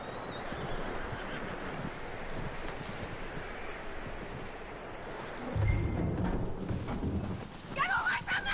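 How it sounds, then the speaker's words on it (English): Horse in Red Dead Redemption, hooves clip-clopping steadily at close range with an occasional whinny, under a continuous bed of game ambience and someone talking. "That looks like a decent horse."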